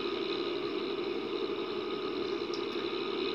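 A tractor engine idles in Farming Simulator 11, giving a steady, loud, continuous drone with a low rumble and bright mechanical whine. It stays even throughout, with no talking.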